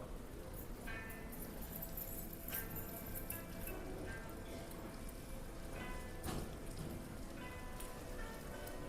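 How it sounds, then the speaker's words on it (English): Steady rain falls at Epcot as a continuous, even hiss of drops, with a few sharper splashes and knocks breaking through now and then. "I mean, that's a pretty steady rain."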